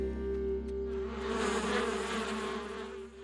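Cartoon bees buzz steadily around a hive in a continuous, close drone that holds for a few seconds without pause.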